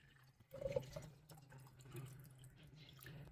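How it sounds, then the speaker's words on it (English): Water poured into a container, one liter of it, a soft splash and trickle near the start then quieter dripping, faint and close, with no voices. "pour 1 liter of water into a container."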